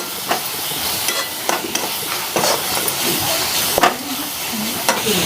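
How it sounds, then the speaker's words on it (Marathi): Ground spices (coriander powder, turmeric and salt) fry together in a pan for a Marathi bharangi leaf dish, making a constant loud hiss broken by soft spatula scrapes and clicks. "आता हे सर्व मसाले सगळे एकदम फ्राय करून घ्यायचं"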